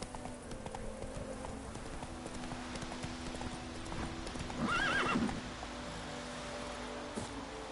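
Roach the horse in a video game clops along steadily at a distance, then lets out a short whinny midway, quiet against a rustling outdoor background.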